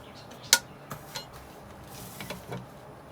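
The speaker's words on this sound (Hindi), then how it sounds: "ये देखिए, सबसे पहले हम गोश्त डाल देते हैं।" Meat drops into a cooking pot with salt, coriander and bay leaf for beef biryani, a sharp metallic clank followed by a few softer knocks and clinks nearby.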